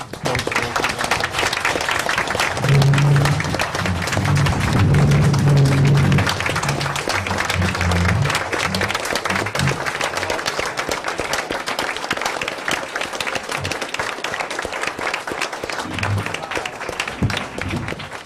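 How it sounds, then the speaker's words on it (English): A conference audience gives a sustained round of applause for volunteers, with dense, steady clapping filling the room and a few louder moments near the start. "So could I ask for one more round of applause for folks?"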